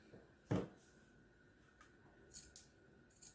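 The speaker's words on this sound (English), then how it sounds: "Now cut with the scissors, open the center and take it upward." One crisp scissor snip through jacket fabric stands out, followed by a few fainter clicks of the blades in an otherwise quiet room.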